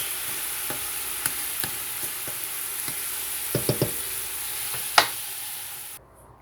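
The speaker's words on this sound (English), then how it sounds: "Just cook the garlic a little bit, mixing it around" Chopped garlic sizzles steadily in a pot for a pasta sauce, close up, while a utensil stirs it with scattered scrapes and light knocks against the metal. There is no talking.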